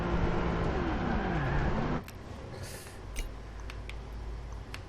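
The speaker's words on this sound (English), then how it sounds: "So we're driving." A car driving, its steady low engine rumble and road noise running continuously and fairly close, with the tone shifting partway through.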